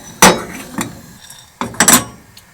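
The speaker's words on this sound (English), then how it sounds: "just shaking the pan occasionally and turning them over" A pan holding something being dry roasted until blackened is shaken, giving a few sharp metallic rattles and clinks in two main bursts with quieter knocks between, close by and with no voices.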